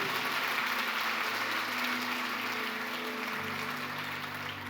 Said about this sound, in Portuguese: Aplauda a Ele